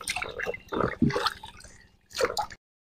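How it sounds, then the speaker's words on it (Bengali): Raw green mangoes being rinsed with water for pickle-making, with close wet splashing, dripping and squishing in a few bursts separated by short pauses, ending in silence. "প্রথমে এই আমগুলো একটু ধুয়ে নিচ্ছে জল দিয়ে"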